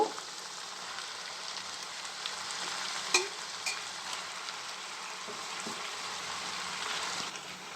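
Chicken pieces dropped into a hot pan with tomatoes for an Andhra-style curry, sizzling steadily and fairly softly, with a brief clatter partway through and no voices.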